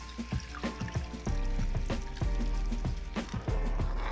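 A cup of water is poured into a wide pan holding a sautéed almond, saffron and yogurt mixture, with a close splashing pour, some sizzling and several clinks and knocks, and no voices.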